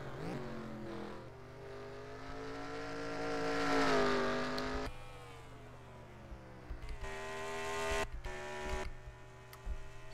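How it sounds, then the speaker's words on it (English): A race car in a video game lapping Watkins Glen: the engine revs and climbs through gears, swells loudly, then drops off with quick shifts and renewed acceleration, heard alone without talk. "So there's Nathan Faden completing another lap on the racetrack"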